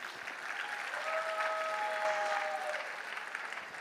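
Audience applause during a speech in Udaipur, a steady, fairly distant wash of clapping with a faint tonal sound partway through.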